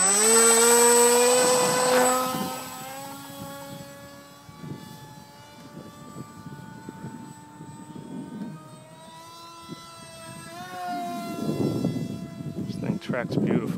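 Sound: RC model jet Mini Eflite Scimitar clone flying

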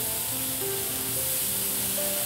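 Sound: ice cube sizzling on hot chrome-plated iron teppanyaki griddle

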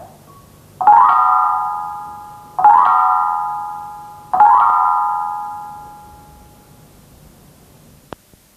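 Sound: Thai percussion upward sweep strokes in octaves

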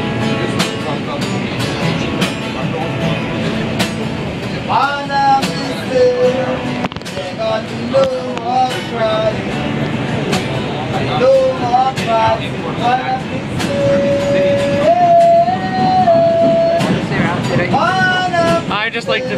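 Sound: inside a moving New York subway R142 train

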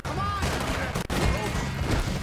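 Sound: gunshots in Red Dead Redemption 2 video game

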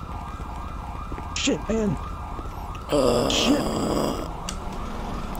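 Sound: ambulance siren in a police roleplay video game

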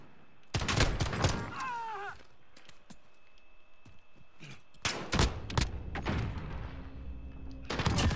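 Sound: gunshots from a shooter video game

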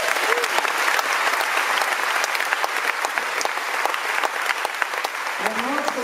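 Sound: audience applause

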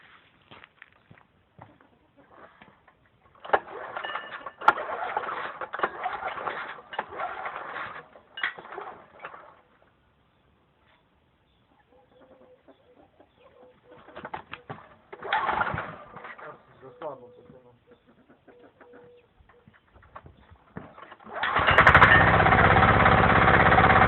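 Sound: Zirka 105 walk-behind tractor being started after nine months idle

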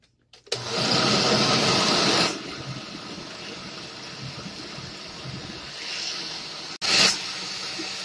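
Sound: blender blending strawberries for cake

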